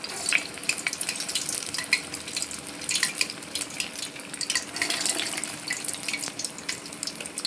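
Urad dal vadas fry in hot oil, a steady close crackle and sizzle with hissing bubbles running throughout, joined by scattered sharper pops and faint stirring clinks, with no talk.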